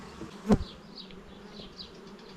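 Honeybees buzz at a hive in a soft, wavering hum close by, with one brief knock early on.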